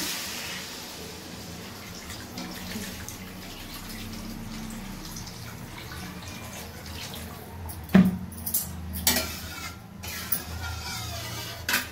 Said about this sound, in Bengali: জল দিয়ে দিচ্ছি